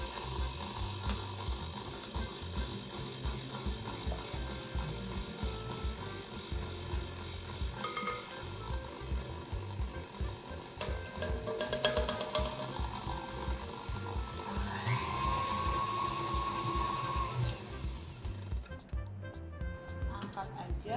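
An electric mixer whirs at low speed as dry ingredients are added little by little to gluten-free gingerbread cupcake batter, a steady mechanical whine with clattering under someone talking nearby.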